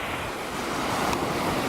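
Waves wash continuously onto the shore of Yellowstone Lake at West Thumb Basin, a dense, steady roar of surf mixed with gusting wind, loud and close, with no voices.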